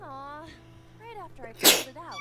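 A character sneezes once, loud and sharp, in the video game AI: The Somnium Files, coming between spoken lines of dialogue.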